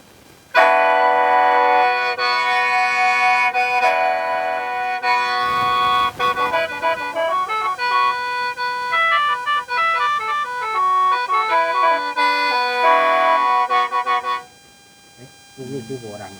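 A Lao khaen mouth organ plays loud sustained reedy chords with a shifting melodic line, stopping abruptly near the end.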